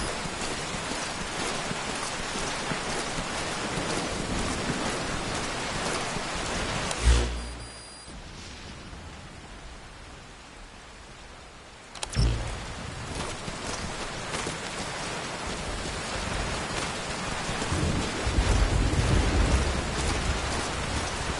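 Heavy rain hisses steadily in a Metal Gear Solid V game scene, with a sharp thunder crack that drops into a quieter spell and a second crack before the downpour swells again.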